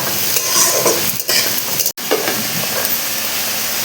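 Dried loitta fish (shutki) fries in a pan with a little salt, a loud, close, continuous sizzling hiss with a brief sudden dropout partway through and no talking.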